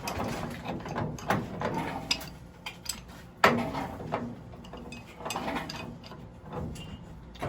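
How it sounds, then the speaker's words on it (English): A 12-inch wrench works loose a pipe union on the gas line of a Burnham SteamMax gas-fired steam boiler, giving irregular metallic clanks, scrapes and ratcheting knocks up close, with one sharp bang near the middle. "you're going to loosen up that union"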